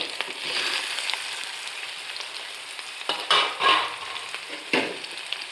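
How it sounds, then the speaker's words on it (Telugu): Boiled potatoes drop into a hot, oiled pan for potato curry, setting off a loud, close sizzle. A spoon stirs and scrapes through them in a few distinct strokes, with no talking. "ఇప్పుడైతే నేను ఉడకబెట్టుకున్న ఆలు వేసేద్దాం"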